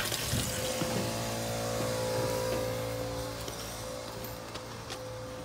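Compressed air hisses and sputters leftover water out of an outdoor RV shower head during winterizing, a steady broadband spray with an underlying hum that gradually softens, close by and without talk.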